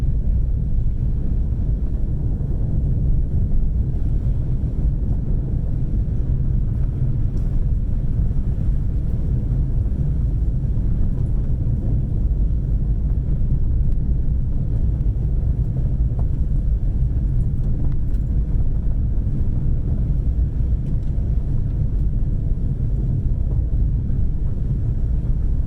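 A car driving fast along Tripoli Road, a New England back road, heard from inside as a steady, loud low rumble of engine, tyres and wind noise that stays constant throughout, with no talk.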